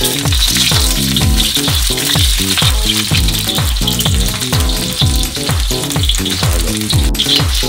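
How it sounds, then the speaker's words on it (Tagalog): Garlic and onion hit a hot pan for chicken liver chop suey, a continuous bright sizzle running under loud rhythmic music throughout. "lagay natin yung bawang saka yung sibuyas"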